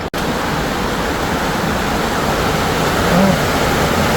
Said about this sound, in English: I don't know if you guys can see how heavy it's raining. Like it is really pouring.